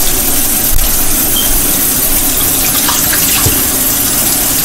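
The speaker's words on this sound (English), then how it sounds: "Let the water get hot." A kitchen sink tap runs steadily at full flow while the water heats up, a loud continuous rushing with no talking.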